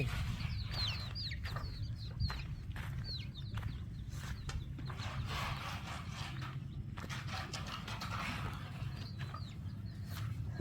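Farmyard chickens and ducks cluck and call in short repeated bursts over a low rumbling background, the bird calls moderately close and scattered throughout.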